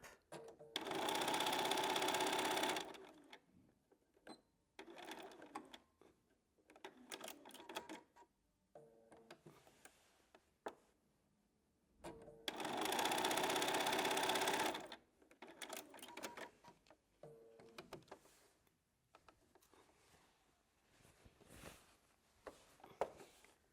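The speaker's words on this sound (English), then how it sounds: "I'm going to sew across the lining, but I'm going to leave a gap." A sewing machine stitches across a drawstring bag lining in two loud, steady whirring bursts of a few seconds each, separated by quieter handling, clicks and fabric rustles.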